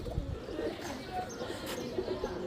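A single female plain pigeon coos softly in low, rolling murmurs, close but faint, over a quiet background hum.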